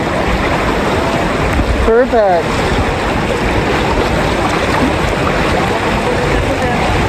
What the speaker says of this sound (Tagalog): Ganito yung alon.